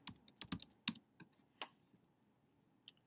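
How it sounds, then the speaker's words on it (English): Fingers typing on a computer keyboard, a sparse run of quiet, uneven clicks with short pauses between keystrokes. "type in Tradition of Excellence."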